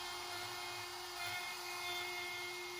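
A power drill fitted with a Forstner bit bores into wood for a rustic lantern project, producing a faint, steady high-pitched whine that holds throughout without a break.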